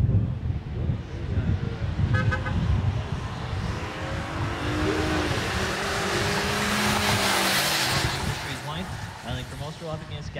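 Holden Commodore wagon on the drag strip at Sydney Dragway during a New South Wales championship round, its engine roaring steadily throughout with a commentator talking over it.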